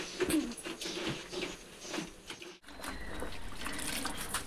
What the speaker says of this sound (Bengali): তো এই যে বিকি ও জামা কাপড় ধুয়ে দিচ্ছে